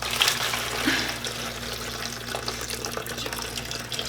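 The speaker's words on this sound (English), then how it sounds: "Let me pour it gently as I can, into our chemicals." Just-boiled water is poured gently from a container onto crystal-growing kit chemicals, a continuous splashy trickle with a faint hum in the background.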